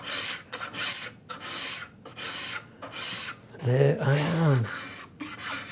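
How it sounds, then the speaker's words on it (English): A metal file rasps a screw head flush on a wooden dovetailed box in a woodworking shop, with steady back-and-forth strokes close up and a brief spoken remark over the filing. "filing out the circle of the screw head"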